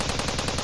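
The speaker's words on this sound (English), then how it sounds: "Shimiyama's scream was cut off by the sound of gunfire." Soldiers in the visual novel game Steins;Gate 0 fire a rapid automatic burst, close and loud, with evenly spaced shots in a continuous rattle and no voices.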